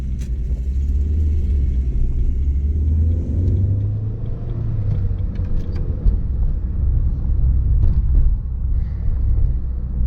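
A 1998 Ford Focus Ghia with a 1.6-litre 16-valve 100 hp four-cylinder Zetec engine driven briskly, heard from inside as a steady low engine and road rumble with the pitch rising and falling through gear changes.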